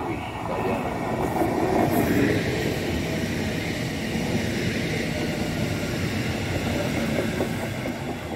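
Regional train RB 58 pulls into platform 6 at a German station, a loud, steady rolling rumble and wheel noise that holds throughout, with no speech.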